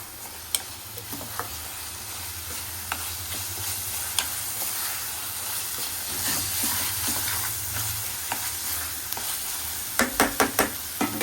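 Biryani (kushka style) being stirred in a pot, with a steady low sizzle and steam hiss running throughout, occasional scraping and clinking of the spoon, and a quick burst of several taps near the end.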